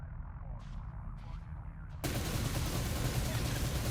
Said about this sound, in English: We will keep firing until the weapon's capacitor runs out or the fighter overheats.